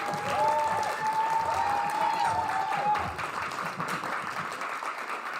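A crowd at a Splatoon 3 grand finals LAN tournament applauds the runners-up, giving dense, sustained clapping throughout while voices talk over it.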